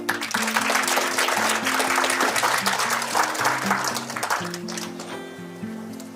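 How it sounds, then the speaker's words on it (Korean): Audience applause greets a lecturer at a talk on regional balanced development, dense clapping that fades toward the end, with background music playing underneath. "큰 박수로 강사님을 모시겠습니다."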